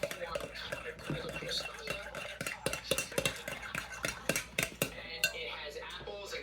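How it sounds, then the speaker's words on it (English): White wine vinegar being stirred into coleslaw dressing, with a utensil repeatedly clinking and scraping against the bowl in irregular bursts at close range. "a tablespoon of white wine vinegar. Stir that."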